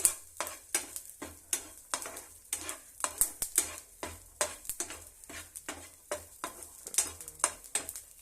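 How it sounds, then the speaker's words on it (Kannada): Garlic fries in a pan over a low flame while a utensil stirs it in a steady series of scraping, clinking strokes against the metal, with a soft sizzle underneath. "ಬೆಳ್ಳುಳ್ಳಿ ಫ್ರೈ ಮಾಡ್ತಿದ್ದೀನಿ"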